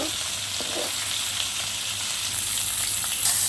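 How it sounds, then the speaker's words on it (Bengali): Fish sizzling steadily in hot oil, a continuous crackling hiss with no voices. "তেলের মধ্যে মাছগুলো দিয়েছি, ভেজে নেব"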